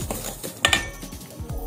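A spoon mixes mashed banana and sugar in a bowl, making quick rhythmic strokes with light clinks against the bowl, close and faint.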